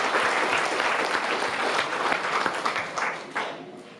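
Audience applause after an amateur choir performance, dense steady clapping from a room full of people that holds for several seconds before tapering off near the end.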